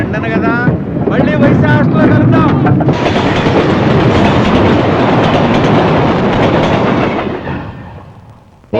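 A train picks up speed, a loud rushing roar of wheels and wind that swells and then fades away, with voices shouting over it at first.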